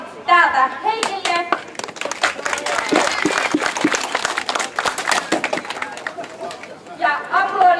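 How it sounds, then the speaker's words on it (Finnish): Lively applause from a crowd at an outdoor market fair, dense clapping that swells and fades, with some speech and chatter at the start and end. "Ja sitten aplodit täältä Heikille."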